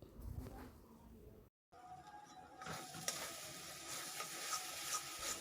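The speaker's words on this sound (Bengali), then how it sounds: "এখন এই সর্ষে আর বাদাম বাটাটাকে দিয়ে লো ফ্লেমে কিছুক্ষণ নাড়াচাড়া করে নিতে হবে" Mustard and cashew paste stirred in a pan on a low flame, a faint sizzle with soft scraping stirs that briefly cuts out and then returns slightly louder and brighter, with no talking.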